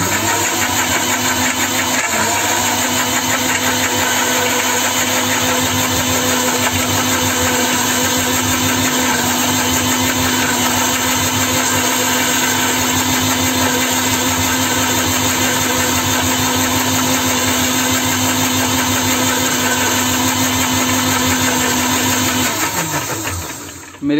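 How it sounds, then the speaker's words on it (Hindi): A kitchen mixer grinder runs steadily, blending a banana shake with almonds and cashews, a loud continuous motor whine lasting over twenty seconds before it winds down at the end. "मेरी तरह ढीठ ना बने और मिक्सी को बहुत ज्यादा देर तक ना चलें।"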